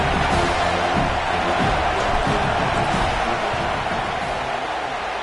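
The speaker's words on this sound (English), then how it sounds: "This crowd trying to do its part to get inside the kicker's head" Stadium crowd in an NCAA football video game roars during a field goal attempt, a dense, steady wall of cheering and rumbling voices that holds at a loud level throughout.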